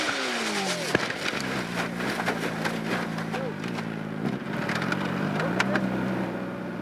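Superbike race engines at a New Jersey racetrack during qualifying, a continuous loud drone of revving motorcycles with rising and falling pitch as bikes pass and shift gears, steady throughout with no break.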